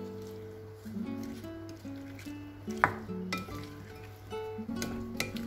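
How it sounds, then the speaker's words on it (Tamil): Rojak buah fruit is tossed with homemade rojak sauce, making soft scraping and sticky stirring sounds with a few sharp utensil clinks against the bowl over faint background music. "நல்லா மிக்ஸ் பண்ணிக்கோங்க."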